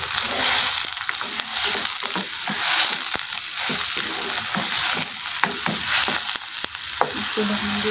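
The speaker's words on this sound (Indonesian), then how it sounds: "Sudah mendidih, mungkin kita kecilin dikit." Water bubbling and hissing at a steady boil in a cooking pan with tempeh and green beans, a continuous close sizzle broken by occasional light clicks of a utensil.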